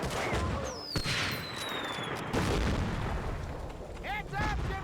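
Mortar fire in the PS2 World War II shooter Medal of Honor: Frontline, heavy booming blasts and rumbling impacts under shouted voices, with whistling shells and scattered gunfire mixed in.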